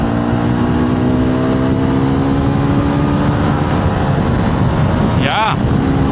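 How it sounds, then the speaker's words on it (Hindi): A Hero Xpulse 210 dual-sport motorcycle pulls hard along a main road, its engine note rising steadily and loud under constant wind rush, with a brief whistle-like chirp near the end. "अभी हैं हम मेन रोड पे, और मेन रोड पे अब इसको थोड़ा खींचेंगे"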